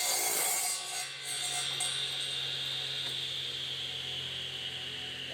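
A radial arm saw cuts through wood, producing a short loud rasping bite at the start followed by a steady humming motor whine that fades as the blade spins on.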